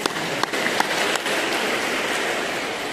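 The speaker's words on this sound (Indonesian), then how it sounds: "Tepuk tangan bagi Tuhan." Church congregation claps together in a dense, steady roar of applause, loud and continuous across the room with no voices on top.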